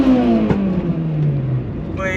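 A modified Honda engine revs hard close by, its tone sliding steadily downward over a couple of seconds, while a man exclaims.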